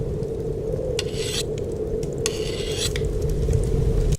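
A tool being sharpened in a bushcraft survival video game, a steady grinding scrape over a constant low hum, with short gritty rasping bursts repeating at irregular intervals, close and without talk.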